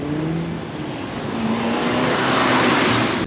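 A VW Golf R MK7 cruising on a road trip to Wales, heard as a steady, loud engine and road drone with a faint rising tone, continuous and without talk.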